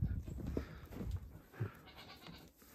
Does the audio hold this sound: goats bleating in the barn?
yes